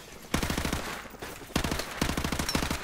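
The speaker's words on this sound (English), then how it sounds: "I think that chopper is shooting at us." A helicopter fires on the player in Call of Duty Modern Warfare Remastered, rapid machine-gun bursts in three short volleys of sharp, evenly spaced shots, fairly loud with brief gaps between them.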